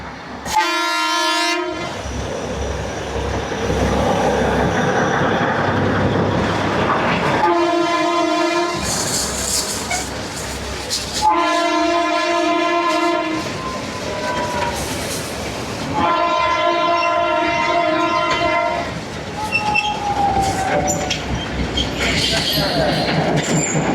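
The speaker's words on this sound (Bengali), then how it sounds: "টয় ট্রেনের আওয়াজ শুনে আর গেলাম না, ফিরে এসছি ওখান থেকে।" Matheran toy train passing on a misty monsoon hill line, sounding its horn in three long, loud blasts over the steady rumble and clatter of the wagons, with faint voices at times.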